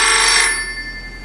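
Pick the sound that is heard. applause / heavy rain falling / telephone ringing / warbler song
telephone ringing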